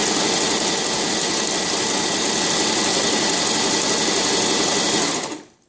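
A Brother JX2517 sewing machine stitches the right side of a buttonhole with a steady, loud, rapid mechanical whir that runs continuously for about five seconds before winding down to a stop.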